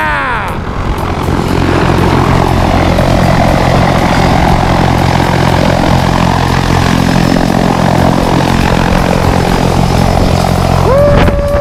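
A propeller airplane carries skydivers up toward 14,000 feet over Skydive Tennessee, its engine a loud, steady, close drone that fills the cabin without letup from start to finish.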